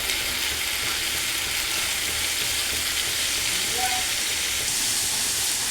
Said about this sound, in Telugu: జింజర్ గార్లిక్ పేస్ట్ వేసి ఒక పచ్చివాసన పోయే వరకు ఒక 2 నిమిషాలు ఆగాలి, వేయించాలన్నమాట